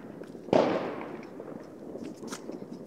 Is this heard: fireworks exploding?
yes